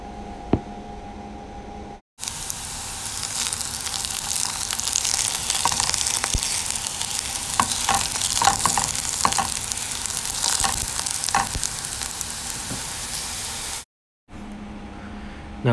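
Chopped tomato sizzles steadily in a pan on low heat while being stirred, a continuous frying hiss with small scraping taps, ending abruptly.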